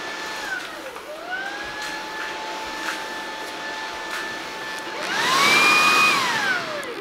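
A Dreame T20 cordless vacuum cleaner runs with a steady whining motor tone that dips, then climbs in pitch and loudness as it switches to turbo mode, close and alone.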